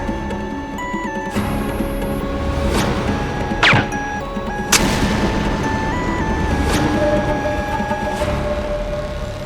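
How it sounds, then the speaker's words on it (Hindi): Firecrackers bursting in a school setting during the Indian TV comedy Maddam Sir, several sharp loud cracks spaced a second or two apart over a busy, noisy background. "क्या ये पटाखा किसने फोड़ा?"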